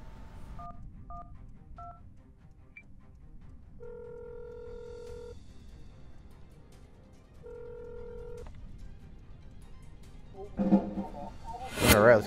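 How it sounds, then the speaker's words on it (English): A cell phone in a driving game dials emergency services: a few short keypad tones, then two longer sustained dialing tones, over a low rumbling background, with a brief burst of noise at the end. "We'll go ahead and call the emergency services."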